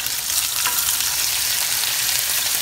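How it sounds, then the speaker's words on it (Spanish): Smoked pork chops fry in a pan with a dense, continuous loud sizzle and crackle, close by and steady throughout, with no voices. "en lo que freímos nuestras chuletas"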